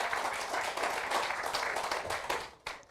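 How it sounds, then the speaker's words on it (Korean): A hall audience at a humanities lecture on laughter applauds steadily and fairly loudly, the clapping thinning out and stopping near the end. "김영식 교수님께 다시 한번 큰 박수 부탁드립니다"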